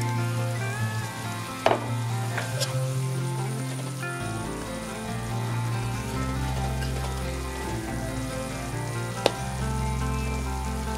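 Shrimp frying in a hot pan for pad thai, a loud continuous sizzle with steady crackling and a couple of sharp utensil clicks, no voices present.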